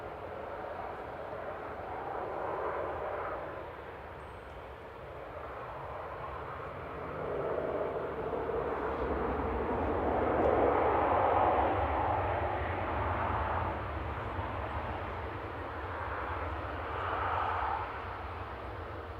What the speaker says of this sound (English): Here comes Tui from Bridgetown, 787-8, GTUIC, one of the freshly painted ones.